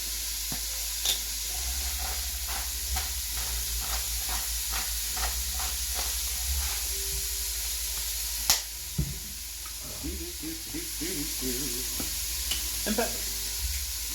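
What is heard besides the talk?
celery, onion and carrots sizzling in a pot with salt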